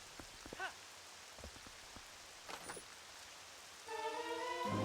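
Rain falling in the video game Twilight Princess, a steady soft patter with a few scattered drops, alone and fairly quiet.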